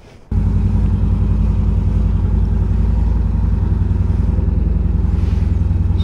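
A motorcycle engine starts up abruptly and then runs steadily, loud and close, with a deep, even throb while riding around Windsor, Ontario.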